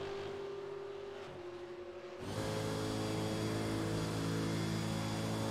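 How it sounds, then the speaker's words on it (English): A Euro V8 SuperCar racing engine at Le Mans, a steady droning whine that steps up sharply in pitch and loudness as the car accelerates, heard alone and fairly close. "Engine sounds decent as well."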